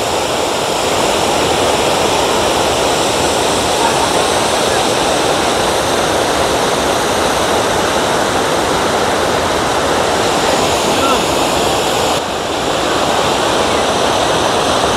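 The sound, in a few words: Dhuandhar waterfall roaring, Bhedaghat, Jabalpur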